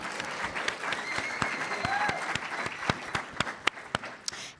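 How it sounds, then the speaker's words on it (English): Audience applause at a youth humanitarian event, a moderately distant crowd clapping in a dense patter with a few sharper individual claps standing out near the end. "a round of applause for my mom, actually"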